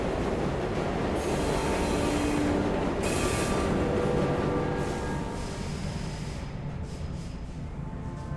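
A train pulls into its final stop in the video game Luna Abyss, with a steady rumbling roll, squealing wheels and a few brief high screeches as it slows.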